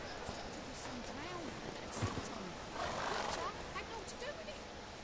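Roach the horse gallops in The Witcher 3, with steady hoofbeats and a brief whinny under a voice talking over the game audio.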